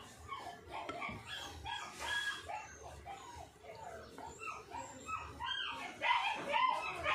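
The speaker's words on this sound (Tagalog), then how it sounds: "Sensya na kayo sa aso ha." A dog barking and yipping repeatedly at a distance, faint and scattered over a quiet background, with a rooster-like call mixed in.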